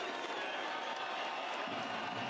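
A basketball arena crowd applauds and cheers after a tense comeback finish, a dense, steady wash of clapping and voices that stays loud from start to end.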